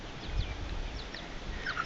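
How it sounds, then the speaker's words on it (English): Silkie chickens in a small backyard flock of seven young birds give soft, scattered clucks and faint chirps over a steady low background hum, quiet and close. "So there's my silky flock."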